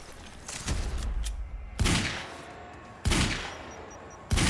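Grenades keep going off in the game Quantum Break, with a rumbling barrage followed by three separate heavy blasts spaced about a second apart, each loud and close with a decaying tail.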